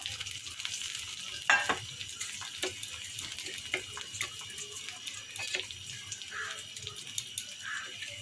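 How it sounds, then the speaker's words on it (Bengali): Ginger and a spice paste of cumin, garam masala, turmeric and chilli powder fry in a pan with a soft sizzle under repeated stirring scrapes and a few clinks, steady and close, no voices. "মেখে এবার দিয়ে দেবো, দিয়ে একটু মশলাটা কষাবো।"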